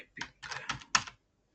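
Computer keyboard typing: a few short, close bursts of clicking keystrokes separated by brief pauses, ending in silence.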